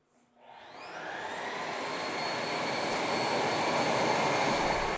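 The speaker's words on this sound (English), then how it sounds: "if you want to have it suck the dust out of the vacuum, you just hit the dust collection button" The E20 Plus robot vacuum's base station sucks dust out of the robot: a motor spins up from silence into a loud, steady, airy roar with a high whine, close by and continuing without talk.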